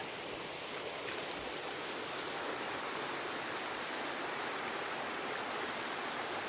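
Creek water rushing steadily in the woods, a constant broadband hiss without breaks, fairly faint and with no voices.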